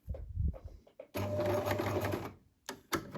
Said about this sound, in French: Donc comme d'habitude, on réalise un point d'arrêt et ensuite on peut coudre